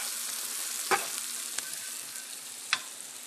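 Canned green beans brown in a frying pan with a quiet, steady sizzle, punctuated by three sharp utensil clicks against the pan as they are stirred and flipped; no voices.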